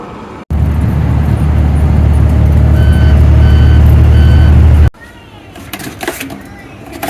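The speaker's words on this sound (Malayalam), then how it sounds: "നമ്മളെ ബസ് വരുന്നുണ്ട് കേട്ടോ" A bus pulls in with a loud, steady engine rumble and faint repeating beeps, then it cuts off abruptly, leaving someone talking over quieter street noise.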